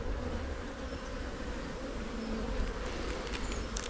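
Honey bees buzz during a hive inspection, a dense, steady drone of many wings close by with no other sounds.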